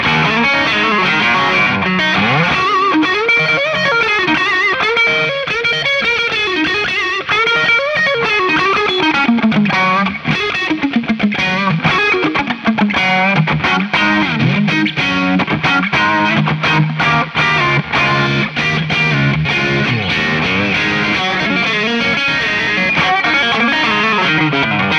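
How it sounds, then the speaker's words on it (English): Electric guitar through an overdrive pedal with the mid-range boost engaged, playing loud distorted chords and riffs continuously, thick and saturated, with no talking. "So if I just kick on my mid-range boost here,"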